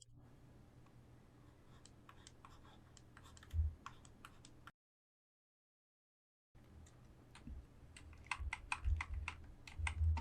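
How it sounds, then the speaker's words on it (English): Computer keyboard keys pressed in irregular bursts of close, quiet taps, a short gap of silence midway, then more rapid typing with a few heavier knocks. "To undo an action, press Ctrl Z."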